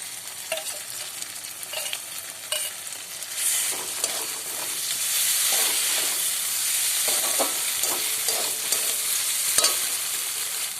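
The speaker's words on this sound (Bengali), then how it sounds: "পেঁয়াজটা ভাজা হয়ে গেছে, এবার বেটে রাখা মশলাগুলো দিয়ে দেব।" Ground cumin, chilli, coriander and ginger-garlic paste fry with browned onions for a potato and peas curry, making a loud, close sizzle with spatula scraping and stirring bursts that settles into a steady hiss, with no speech.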